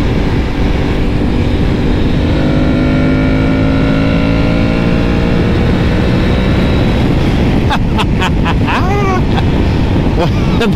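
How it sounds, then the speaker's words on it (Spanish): An Aprilia Tuareg 660 motorcycle engine revs up, its pitch climbing steadily for several seconds, buried under loud, blustery wind noise. "ni se siente la velocidad en esta moto y agarra, pero con ganas"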